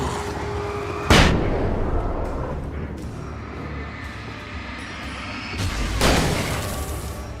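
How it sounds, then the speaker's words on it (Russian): Grenade explosions in the horror action game Alan Wake: two loud, booming blasts about five seconds apart, each with a sharp crack that fades into a rumbling tail over steady low background noise. "Кидай гранату"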